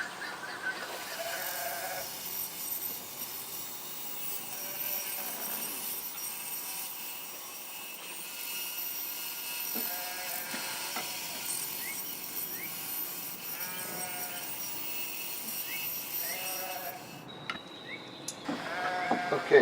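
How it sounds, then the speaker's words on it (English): A saw cuts 2-inch pieces of cedar against a fence, several separate bursts of cutting set apart by short pauses, heard at moderate level with a clatter near the end. "I've set my fence at 2 inches, and I want to cut 2-inch pieces of this."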